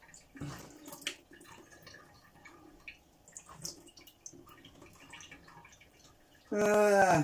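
Reverse osmosis water pours out loud and steady near the end after a stretch of faint drips, clinks and handling noises.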